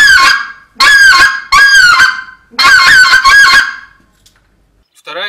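A wind goose call blown to imitate a white-fronted goose gives loud, close honking calls in quick double and triple notes, four bursts separated by short pauses, then a quieter note at the end.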